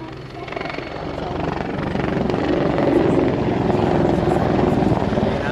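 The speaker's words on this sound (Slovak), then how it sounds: "Vrtuľník Mi-24." A Mi-24 helicopter's heavy rotor thump and engine roar, loud and steady, swelling slightly as it draws nearer during an air show display.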